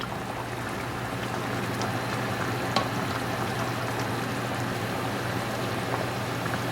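A whole chicken curry bubbles and sizzles in a pot over a medium gas flame as it is mixed, a constant, fairly quiet crackle with a faint stir and no speech.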